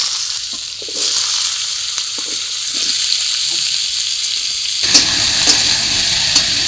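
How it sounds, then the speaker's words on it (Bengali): Potato and eggplant fry together in hot oil with bay leaf, dried red chilli and five-spice tempering, giving a steady close sizzle with stirring scrapes; the frying grows louder and brighter toward the end. "ফোড়নের সাথে এবার আলু আর বেগুনটাকে একসাথে ভেজে নেব।"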